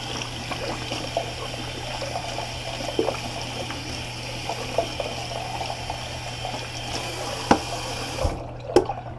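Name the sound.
water running while rinsing a shaving brush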